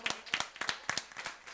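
A small studio group on a radio show claps for a singer, sharp individual hand claps in an irregular rhythm, close and fairly distinct rather than a dense roar.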